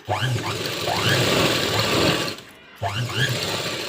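A sewing machine whirs loud and close as it stitches a blouse, running in two continuous bursts broken by a short pause.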